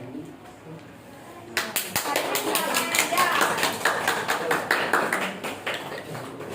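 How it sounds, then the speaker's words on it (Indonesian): Classroom applause breaks out after a brief moment of quiet, a dense patter of many hands clapping together at moderate loudness that carries on steadily to the end. "Tepuk tangan untuk"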